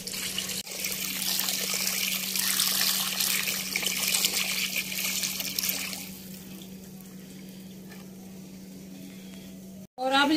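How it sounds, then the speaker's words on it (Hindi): Water streams and splashes into a bowl set out for birds at home, a steady loud hissing pour for about six seconds that then drops to a faint trickle before a brief music sting. "अभी हम इस पर पानी डालेंगे"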